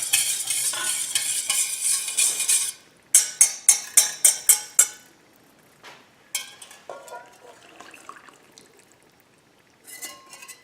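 A utensil stirs wet waffle batter made with unsweetened applesauce in a bowl, giving a soft wet swish and then a run of rhythmic clinking strokes against the bowl, with quieter scrapes and a final few strokes after a pause.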